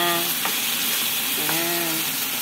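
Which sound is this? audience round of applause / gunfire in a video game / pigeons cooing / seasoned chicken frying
seasoned chicken frying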